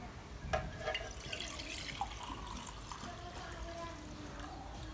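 A cow belonging to Abeda is hand-milked, streams of milk hissing and splashing into a pail in a steady wet flow with a few louder spurts, close by, with faint voices in the background.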